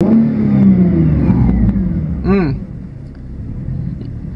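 A 4.0 V6 Mustang exhaust revs up to about 3,000 RPM in one sharp rising burst, then settles back to a low, throaty idle rumble.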